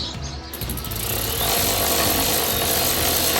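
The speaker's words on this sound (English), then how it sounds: "We take our 16mm socket, run them in" A power tool with a 16mm socket drives the slide pin bolts on the front brakes of a Ford F250, a loud, close, steady whirring rattle that starts up and keeps running.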